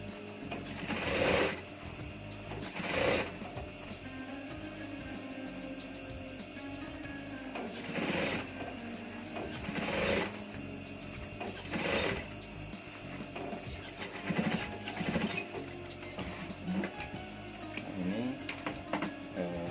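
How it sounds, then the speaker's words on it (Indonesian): A sewing machine stitches a rib cuff onto a lined jacket sleeve, its steady mechanical whir punctuated by periodic louder bursts, close and continuous throughout. "Kita jahit untuk bagian luarnya dulu ya, atau bagian lengan jaketnya."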